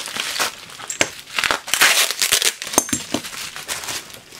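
Packing tape is torn and peeled off a mail package, producing close crinkling, ripping and crackling bursts in an irregular series.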